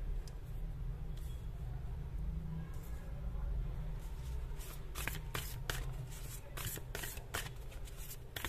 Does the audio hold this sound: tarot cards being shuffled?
yes